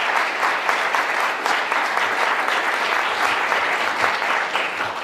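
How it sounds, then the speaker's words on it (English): Sustained applause from a conference audience for a panel of speakers, a dense, steady clapping crowd that fills the whole moment without a break. "Would you give our panelists a big round of applause?"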